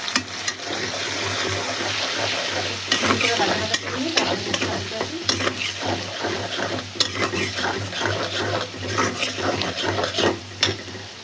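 Spices fry and sizzle in a pan with steady, close stirring scrapes and clatters throughout, a continuous bright hiss punctuated by frequent spoon knocks.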